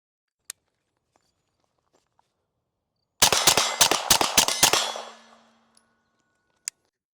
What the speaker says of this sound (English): We're gonna do like say 5 shots, quick succession, and see how that works.